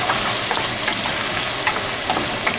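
Egg, potato and bacon fry in a pan, giving a steady close sizzle with scraping stir strokes throughout and no voices.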